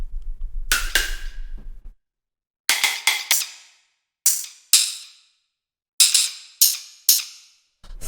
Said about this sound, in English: the last hi-hat in here is this little noise effects patch